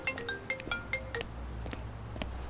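A mobile phone ringtone plays a quick, bright sequence of chiming electronic notes, then cuts off, leaving quiet room tone with a few faint clicks.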